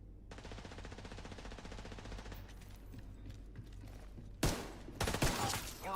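Pistol shots in The Division 2 video game, a rapid run of sharp reports followed by a couple of louder close bursts near the end, with no talk over them.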